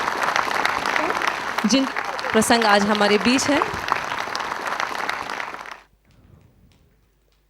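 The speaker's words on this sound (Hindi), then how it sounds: "जोरदार तालियों से ये माहौल आज गूंजना चाहिए" Audience applause at a celebratory family event with guests, a dense clapping wash running under an amplified announcer's voice before cutting off abruptly, leaving near silence.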